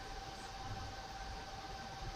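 A train's steady low rumble with a faint high whine, continuous and fairly quiet, heard during a virtual tour recording with no voices.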